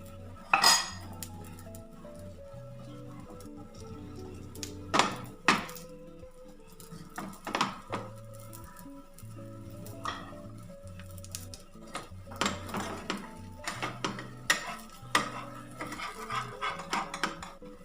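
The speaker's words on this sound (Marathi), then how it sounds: "आता आपण याला परतूया।" Tomato omelette being flipped and turned in a pan over low heat, with repeated metallic clinks and scrapes of a spatula against the pan at an irregular rhythm, close and clear.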